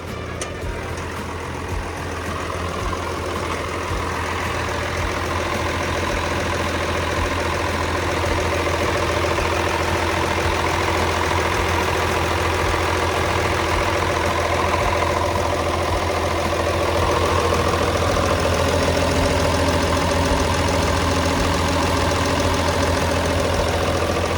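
A Komatsu WA470-6 wheel loader's six-cylinder turbo diesel engine idles steadily and loudly close by, a constant low rumble with a slight knock that continues without a break.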